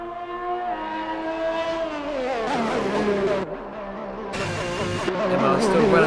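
An Alfa Romeo Formula 1 car in the F1 video game laps the Imola circuit, its high engine whine climbing and dipping through gear changes, loud and continuous, with brief bursts of harsher noise.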